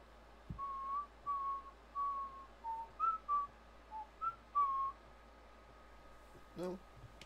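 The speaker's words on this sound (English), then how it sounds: "I whistled." A person whistles a short, wandering melody of clear sustained notes, moderately near and alone, with a soft thump at the start and a brief rustle near the end.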